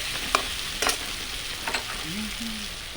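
Eggs fry in a home kitchen pan with spices, sizzling steadily while a utensil scrapes and stirs in a few sharp strokes; a faint voice-like tone sounds briefly near the end.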